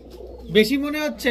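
A pair of army pigeons for sale coos loudly up close, one drawn-out throaty call swelling in the middle, with a quieter hum beforehand.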